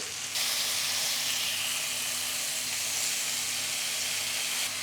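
Pomfret fish pieces frying in a pan over a medium flame, giving a loud, continuous, even sizzle that holds steady from start to finish without talk.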